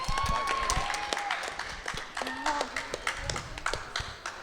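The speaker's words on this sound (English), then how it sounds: "Asha Hussain, please give her a round of applause" An audience at a 2017 election hustings claps steadily, with a few whistles and voices mixed in, and the applause thins toward the end.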